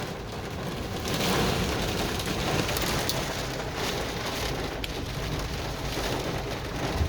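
Heavy rain and storm wind heard from inside a car during 70 mph gusts in Castroville, Texas, a dense constant roar of rain drumming on the vehicle with no talk over it.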